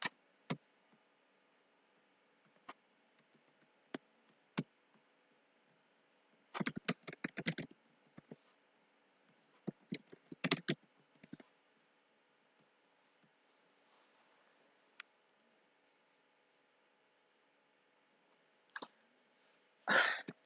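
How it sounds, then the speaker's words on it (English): Bursts of rapid keyboard typing separated by pauses, with scattered single key clicks, fairly close and crisp against a quiet background. "typing too fast here."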